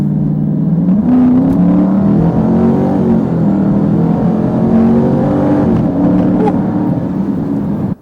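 A loud 2007 Ford Mustang GT V8 engine revs steadily and close by, its deep throaty drone rising and falling in pitch for several seconds.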